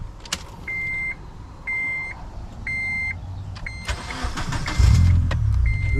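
Repeated electronic beeps chime, then a turbocharged Honda CRX engine cranks and fires up, settling into a deep, rumbling idle.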